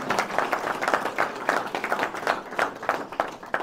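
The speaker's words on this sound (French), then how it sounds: "Vous pouvez les applaudir" An audience claps steadily at a village New Year's wishes ceremony in Léran, a dense run of overlapping hand claps at even, moderate loudness throughout.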